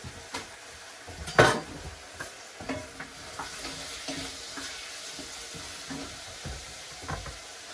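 Chopped onion cooking in a pan for a beef stew, a soft steady sizzle with scattered clinks and scrapes of a utensil stirring, close by and without talk.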